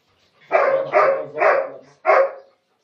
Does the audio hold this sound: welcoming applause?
no